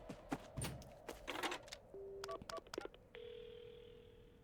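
A phone booth telephone in the Paranormasight video game: a run of short dialing tones and clicks, followed by a steady ringing tone on the line, clear and close.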